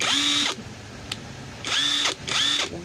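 An Ingco 400 Nm cordless impact wrench runs in three short bursts, each a loud whirring motor whine that winds up and down. A soft click falls in the gap between the first two bursts.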